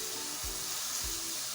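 Sewaiyan vermicelli simmers in milk in a pan with a steady, soft sizzling hiss throughout, broken by two dull low thuds. No one speaks.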